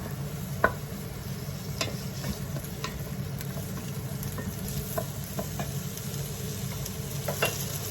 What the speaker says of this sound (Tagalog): Gisa po natin siya ng konti hanggang sa mag-transparent na yung kulay niya.